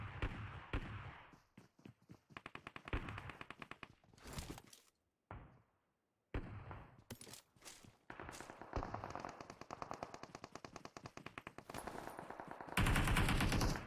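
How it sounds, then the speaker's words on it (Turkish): Automatic gunfire in the mobile battle royale game PUBG Mobile, loud rapid bursts broken by brief pauses and a sudden silence, then resuming in dense volleys. "Adam sıkıyor Kadir"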